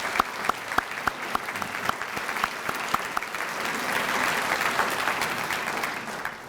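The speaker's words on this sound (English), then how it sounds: "Can we give a round of applause for Mary?" An audience at an awards luncheon claps for an honoree, starting with a few distinct claps that quickly swell into a steady, moderately loud round of applause before tapering at the close.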